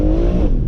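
BMW M140i engine pulling hard at full power with traction control off, a loud close steady engine drone with a slight pitch rise over a brief moment.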